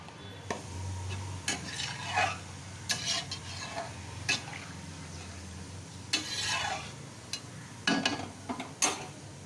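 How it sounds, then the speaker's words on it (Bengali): Water goes into frying spice masala for a tangra fish curry, bringing close sizzling and hissing in uneven bursts, mixed with the scrape and clatter of stirring in the pan, and no one speaking. "এবার আমি এতে জল দেব"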